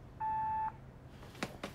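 A single clean electronic phone voicemail beep, a short steady tone lasting about half a second, followed by a couple of faint clicks.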